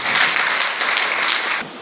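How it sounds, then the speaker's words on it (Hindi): Clapping for a brother at a Sunday church meeting, a loud, dense burst of applause from the congregation that stops abruptly. "इस भाई के लिए, प्रभु के लिए ताली बजाओ।"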